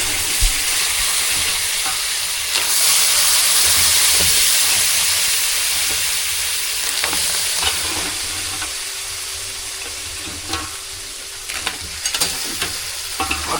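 Crabs fry in a spicy masala in a flat pan. A continuous, fairly loud sizzle and hiss runs throughout, broken by scattered clicks and scrapes of stirring.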